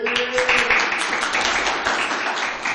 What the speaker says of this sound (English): Everybody can give a little bit of applause for Christy Smith